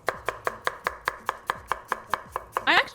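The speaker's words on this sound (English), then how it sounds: "you want the onion to be kind of diced pretty fine as well" Onion diced finely on a cutting board for taqueria street tacos: a steady series of about fourteen sharp, evenly spaced knife chops, close and clear, with a brief rustle of onion pieces near the end and no talk.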